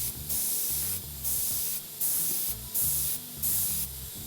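A Sparmax MAX-4 entry-level airbrush with a 0.4mm nozzle sprays paint in five short, steady hissing bursts of roughly half a second each, separated by brief pauses, close up with no talking.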